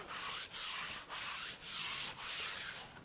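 Hand rubbing over a rough, unsanded butcher block wood counter, five or six soft scratchy strokes in a steady back-and-forth rhythm, close and faint with nothing else heard.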